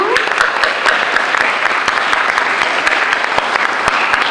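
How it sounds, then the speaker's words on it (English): A crowd applauding steadily, dense clapping throughout at a fairly loud, even level with no breaks. "let's give a round of applause to all of you."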